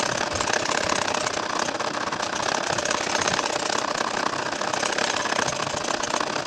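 A sewing machine runs continuously while stitching a baby nakshi kantha quilt, a dense, even mechanical whir with rapid fine ticking that stays loud and close throughout, with no pauses and no voices.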